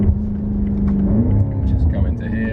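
BMW M5 F90 V8 pulling under acceleration, a deep close engine rumble with a rising harmonic whine through the short burst, steady and loud throughout.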